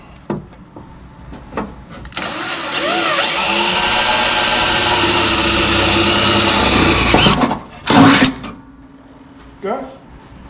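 A power drill bores a hole during an LS swap intake tube and MAF sensor install, running loud and close for about five seconds, followed by a short second burst and light handling noises.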